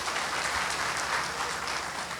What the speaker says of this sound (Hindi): इसके लिए सबसे पहले चाहूंगी कि आप सब तालियां बजा दें।